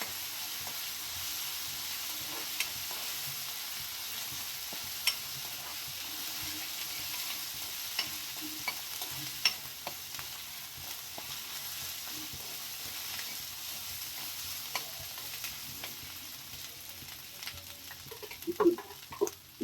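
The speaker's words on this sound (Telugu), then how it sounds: "అల్లం వెల్లుల్లి పేస్ట్ వేసి కదండి." Ginger garlic paste sizzles steadily in a hot pan while a spoon stirs it, with occasional scraping clicks and small spatters over a continuous frying hiss.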